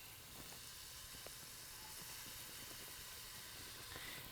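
Onion and celery sizzle gently in a slick of olive oil in a soup pan over low heat, a soft, steady frying hiss with faint crackles and no talk.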